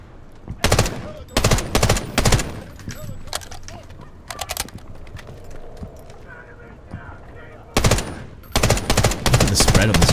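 Gunfire in the shooter video game Delta Force: loud bursts of rapid automatic shots in several clusters, separated by quieter gaps, with a voice speaking between bursts.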